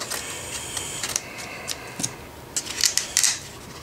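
Scissors snip a few short, sharp cuts into the paper spider of a JBL 2226 woofer during a recone, crisp close clicks spaced irregularly over a quiet background.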